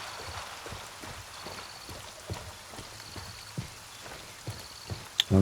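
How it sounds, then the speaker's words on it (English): Steady rain patters in the video game Grey Zone Warfare, a dense, even hiss of falling drops with scattered soft taps and a few louder thuds near the end, with no voices. "the rain is making it very hard to see if there's anyone"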